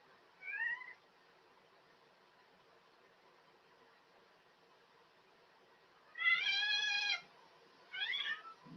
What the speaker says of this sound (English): Very independent cat.